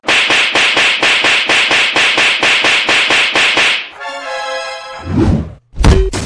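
Rapid, evenly spaced loud thumps from people beating someone in a comedy skit set in a Bihar village, about fifteen blows in quick succession, then a cry-like voice and a few heavier hits.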